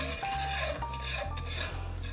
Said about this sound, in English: that smells delicious, that curry powder frying